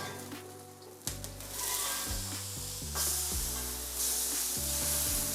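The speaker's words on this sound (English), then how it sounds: "now we're gonna start flipping over our onions" Onions sizzle loudly on a hot griddle as they are flipped, with a steady frying hiss and a few scraping stirs of a spatula, no voices.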